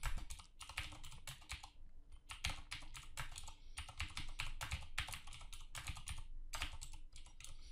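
Rapid typing on a computer keyboard, with bursts of clicking keystrokes broken by brief pauses, close and steady throughout with no talking.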